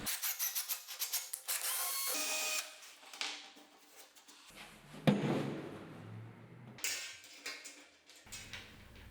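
A power drill bores holes in a kitchen cabinet for the threaded inserts that hold sink brackets, with steady whirring bursts, pauses and knocks between passes, heard close and alone.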